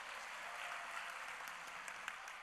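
A church crowd at a Korean youth and college worship gathering applauds its young adults and university students, a faint, even rustle of many hands clapping together at a distance.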